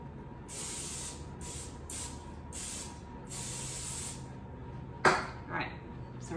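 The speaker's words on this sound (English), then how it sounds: "some non-stick cooking spray" Five short bursts of non-stick cooking spray hissing in quick succession, fairly close, followed by a couple of brief clatters and soft kitchen noise.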